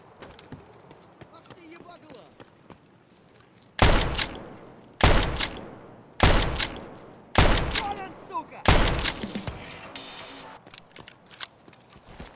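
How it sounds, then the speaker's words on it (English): Gunfire in the video game Escape from Tarkov: after a quiet stretch, five loud, sharp shots ring out about a second apart, each trailing into a short echoing tail. "sometimes bullets sound like someone right next to you"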